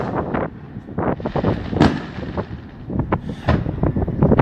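Fireworks explode over St Croix in a few distant booms, heavily buried under steady wind rumble on an outdoor microphone.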